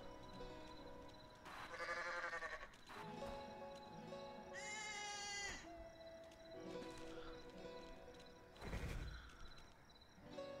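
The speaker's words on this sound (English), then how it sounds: "A sheep." Sheep bleating in a video game, with a few wavering bleats heard over continuous game music and effects.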